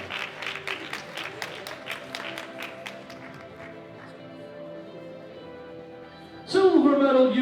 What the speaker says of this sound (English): Big round of applause now for Svetlana